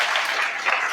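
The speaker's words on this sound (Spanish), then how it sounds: "Un fuerte aplauso, por favor." Audience applause after a talk on wildlife veterinarians, a brief, dense burst of many hands clapping close by, steady and uninterrupted for about a second.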